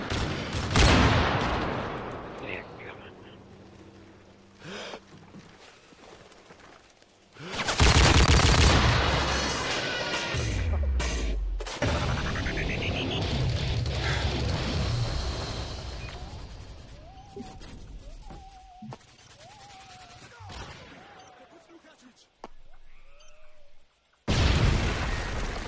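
A modded MK gun firing in Modern Warfare 3, with loud bursts of rapid gunfire and explosive booms in separate stretches, broken by quieter gaps, swooping electronic effects and brief pauses.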